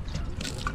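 Water splashes and trickles over a car cover during a water test, a short, soft, hissing run of liquid with a few faint drips.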